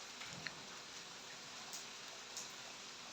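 Rain falls at night in Lahore as a steady, even hiss with a few faint drips and ticks, continuous and fairly quiet throughout, with no voices.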